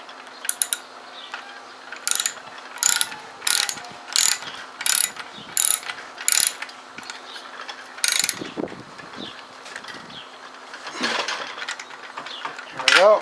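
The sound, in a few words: ratchet with a five-eighths socket tightening a trimmer part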